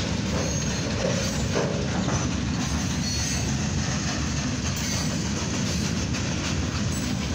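A northbound CSX coil freight train rolls past on track two, a loud, continuous rumble and roar of wheels and rail noise heard up close, with no voices.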